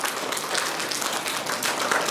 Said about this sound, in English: let's give everybody who won an award today another last great big round of applause